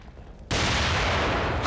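A grenade blast in The Evil Within, a loud broadband burst that hits abruptly after a quieter half-second of game ambience, then holds as a dense, sustained roar to the end.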